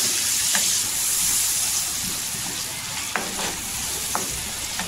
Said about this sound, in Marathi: दही पूर्णपणे असं तेलामध्ये मिक्स करून घ्यायचा, परतून घ्यायचा।